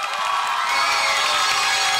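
A studio audience on a Pakistani game show applauds and cheers. The dense, continuous crowd noise stays loud and unbroken throughout, with whoops mixed in.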